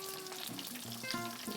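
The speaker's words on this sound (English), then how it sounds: "So now I'm going to add the second Modiga steak into the pan." A Modiga steak fries in hot, bubbling oil in a pan, giving a steady close sizzle and crackle with faint scraping and no voices.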